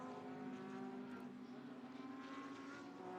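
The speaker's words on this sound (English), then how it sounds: "On board with Christopher Mies then, jumping over the curbs through the chicane" Onboard a GT race car at Oschersleben, the engine drones at steady high revs with a strong tonal whine and slight fluctuations as the car runs over the curbs through a chicane.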